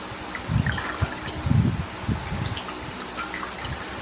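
Water splashing as a face is rinsed clean by hand, a few close uneven splashes and trickles over a steady background hiss.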